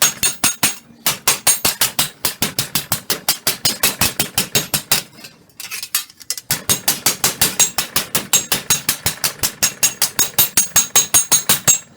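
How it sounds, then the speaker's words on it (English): Rapid, evenly spaced hammer strikes ring out on a copper sheet over a steel block, a bright clinking rhythm that pauses briefly midway and then resumes at the same steady pace. "Now I'm just going to go back and forth with the hammer all the way across."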